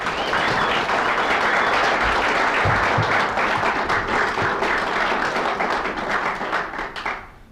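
An audience claps steadily as a speaker is welcomed to a talk, the dense, loud applause holding for several seconds before thinning and fading out at the end.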